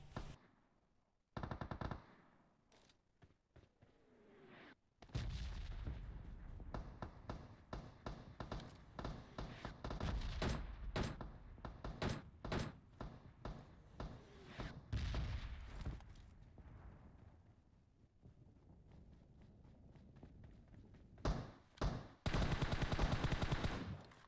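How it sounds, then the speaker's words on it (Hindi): Two bots on a church roof in PUBG fire automatic weapons, loud rattling bursts that come in repeated volleys with brief gaps and then a final heavy burst, with no talk over them. "इधर चर्च के ऊपर तभी उस समय दो बॉट्स फायर करते हैं।"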